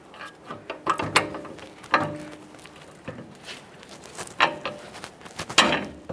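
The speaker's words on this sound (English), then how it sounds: "So I'm just going to use a pry bar up inside this area." Metal pry bar levering a ball joint down on the front suspension of a 2015–2020 Ford F-150, irregular clanks, scrapes and creaks of steel on steel, close and moderately loud, with no talking.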